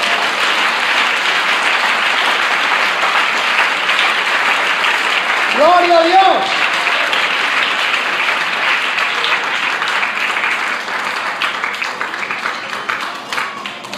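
A church congregation applauds loudly and continuously throughout, with a brief shouted voice rising above the clapping partway through.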